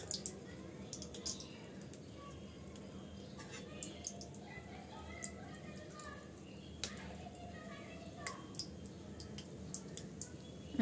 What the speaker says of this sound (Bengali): আমি মিডিয়াম টু লো আছে গোল্ডেন ব্রাউন করে উল্টিয়ে পাল্টিয়ে ভেজে নিচ্ছি